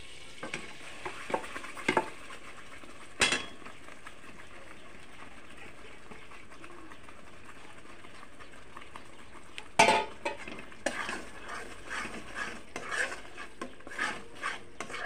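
Masala paste sizzles steadily in hot butter in a pan while a utensil scrapes and stirs at intervals, with sharper clinks near the start and in the second half.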